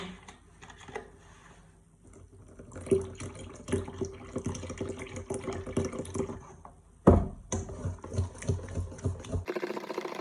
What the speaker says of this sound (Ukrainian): Додаю остаток молока.